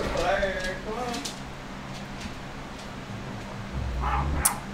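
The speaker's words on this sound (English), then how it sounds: "There's a dog outside the window" A dog barks outside a window, a few sharp distant yaps and a whimpering whine heard faintly over a low indoor hum, with a voice speaking at the start.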